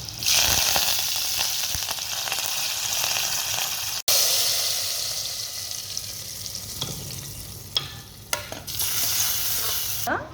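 Garlic, a pinch of asafoetida and curry leaves sizzle and spit in hot oil as a tempering for tomato dal, a steady close frying hiss with stirring and a few sharp pops near the end.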